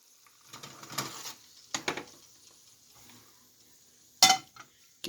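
Metal skillet handled on a stovetop: a few scattered clanks and scrapes of metal on metal, close and moderately loud, with a sharp bright clink near the end and quiet gaps between.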